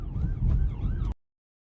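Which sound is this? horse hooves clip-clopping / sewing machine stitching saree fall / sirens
sirens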